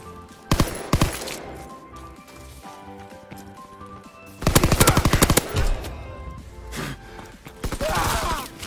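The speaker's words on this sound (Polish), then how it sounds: "Snajpery pierońskie. Strzelił mnie snajper." Gunfire crackles in Call of Duty WWII in several loud, rapid bursts separated by quieter gaps, with faint game ambience between shots.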